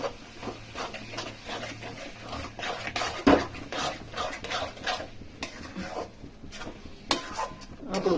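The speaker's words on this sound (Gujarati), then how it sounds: "હવે આપણે રીંગણું નાખી દઈશું અંદર શેકેલું," Roasted eggplant is stirred in a pan for Kathiyawadi ringan bharta, with an irregular run of scraping and clattering from a spoon against the metal and a soft sizzle underneath.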